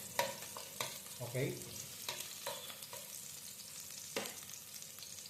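Garlic and onion sautéing in a pan for chicken tinola, a soft sizzle broken by intermittent scraping stirs and clacks of a utensil, with a brief spoken word.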